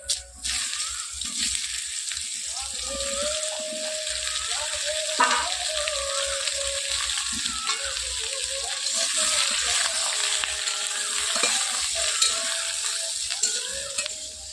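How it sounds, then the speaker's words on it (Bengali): Ridge gourd frying with bay leaf, dried chili and nigella seeds in a pan, a steady close sizzle with intermittent stirring scrapes throughout, a voice talking at times over it. "ঝিঙেটা নাড়া হয়ে গেছে অর্থাৎ ভালোভাবে ভাজা হয়ে এসেছে"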